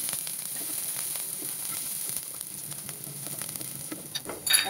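Panch phoron, chopped onion and green chili frying in hot oil, a steady close sizzle with crackling pops and a burst of louder spattering near the end, no talk.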